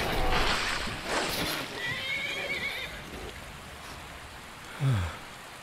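A horse in Skyrim VR gives a short, shrill whinny near the end, moderately loud over a steady hiss of rain and ambient noise.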